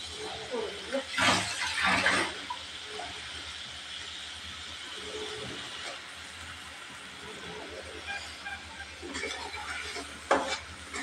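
Chopped tomatoes go into a hot pan of frying pangas fish masala, with sizzling bursts early and again near the end over a quieter steady frying hiss.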